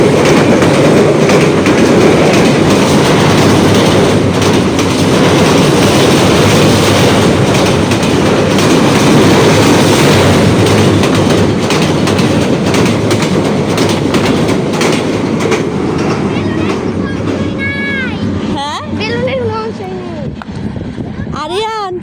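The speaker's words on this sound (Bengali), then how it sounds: "ওই পাশ থেকে আসছে ট্রেন" A train rolls along the railway track with steady, loud clickety-clack of wheels and carriage rumble throughout, ending with a few high wheel squeals as it passes; people speak faintly under the noise.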